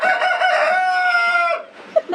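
Kappikkuttan, a household rooster, delivers one long, strong crow at close range, trailing off into a couple of short clucks and faint background sounds.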